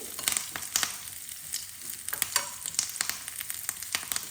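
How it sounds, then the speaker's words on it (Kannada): Garlic frying in oil in a pan for tomato rasam, a continuous close sizzle broken by sharp crackles and pops as it is stirred, no voices. "ಎಲ್ಲದನ್ನು ಮತ್ತೊಮ್ಮೆ ಮಿಕ್ಸ್ ಮಾಡಿ ಇದು ಚೆನ್ನಾಗಿ ಫ್ರೈ ಆಗಲಿ"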